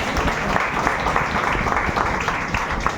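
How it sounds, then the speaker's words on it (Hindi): A church congregation clapping together at a thanksgiving and anointing celebration for an extended church building, a dense, even wash of hands sustained throughout, fairly loud and filling the room. "क्यों ना तालियों के साथ में तालियां"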